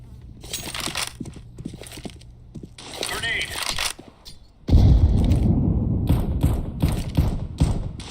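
A grenade goes off in Counter-Strike: Global Offensive, a sudden loud burst that cuts in midway and carries into a rumbling, crackling tail, while game noise and voices fill the first half.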